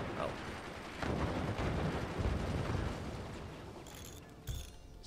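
Weapons fire in the Forts multiplayer strategy game, with dense mechanical rattling and bursts of gunfire rolling through the mix, a sharper crack arriving near the end.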